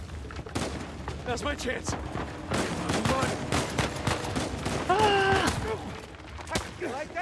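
Gunfire in Uncharted 4, bursts of shots and rapid automatic fire crackling throughout amid chaotic action, with a voice shouting over it.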